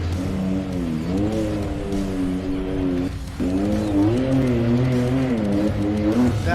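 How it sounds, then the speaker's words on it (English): A Can-Am UTV race car engine revs steadily at a championship race, its pitch rising and falling in repeated waves with a short dip midway, heard at moderate distance with no talk. "That's Hunter Miller in the big screen in his Can-Am UTV"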